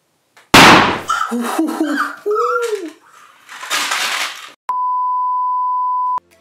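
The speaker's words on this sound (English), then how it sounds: "now you download a gunshot sound effect, import it to your project, then drag it to your timeline" A sharp, loud burst at the start, then talk and another noisy burst, ending with a steady electronic beep tone held for over a second.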